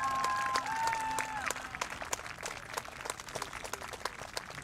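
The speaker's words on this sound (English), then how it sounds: "As the crowd congratulates Tessa Varmeyer on her historic season." Crowd applause at a women's college soccer game, Lambton at Niagara, saluting player Tessa Varmeyer: dense clapping, strongest early, then a steady patter of scattered claps fading slightly over several seconds.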